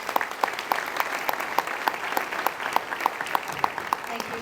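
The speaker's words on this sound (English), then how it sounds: "So let's give her a very warm round of applause." Warm applause from a luncheon audience honoring the board chair at a legislative awards event, steady and moderately loud with crisp individual claps standing out, under faint voices.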